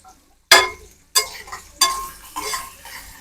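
Vegetables and onion stirred with a utensil in a hot pan, several distinct scraping clinks of metal on the pan over a soft, steady sizzle, close up and without talk.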